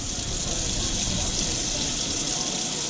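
Tap water runs steadily while rice is rinsed, a close, even rushing hiss with faint swishing beneath it, continuous for the whole moment.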